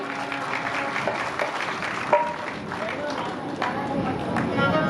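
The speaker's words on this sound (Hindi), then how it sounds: "एक बार इनके लिए ताली बजा दीजिए" Audience applause at a Hindu religious katha gathering, a steady broad wash of clapping that continues throughout, with a sharper accent near the middle and voices mixed in.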